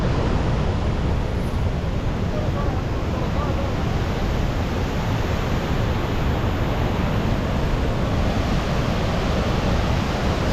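A river on the road to Bindu Dam rushes steadily as a dense, even wash of water noise that stays at the same level throughout with no breaks.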